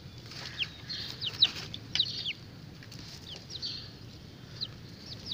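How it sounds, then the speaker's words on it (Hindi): Hens feeding on live insects, with scattered soft clucks and brief chirpy calls over a low background rumble. "ये हमारी सारी मुर्गियाँ कीड़े खाने में मसरूफ़ हैं।"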